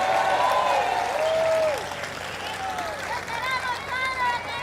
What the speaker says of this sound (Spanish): Fuerte el aplauso para el Padre Luis Toro.